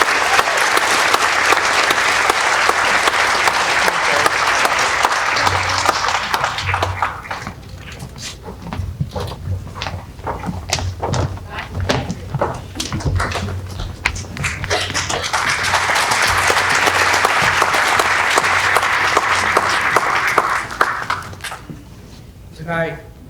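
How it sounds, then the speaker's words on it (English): An audience at a mariachi concert breaks into loud, sustained applause that swells, dips under talk in the middle, then rises again before fading. "Mr. Mario Castillo, can we give him a round of applause, please?"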